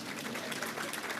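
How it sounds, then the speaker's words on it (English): Students in a church audience clap for themselves, a dense, steady patter of many hands that sounds soft and somewhat distant and lasts only a moment. "Clap for yourself."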